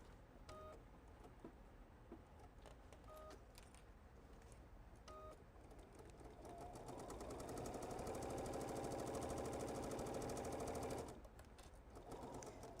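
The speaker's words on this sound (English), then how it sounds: "Coming back to an overlap here, I'm going to back stitch there." Sewing machine stitching a Halloween-themed fabric bench project: a few faint beeps first, then a steady, rapid, moderately quiet run of stitching lasting about five seconds that stops abruptly, followed by low background hum.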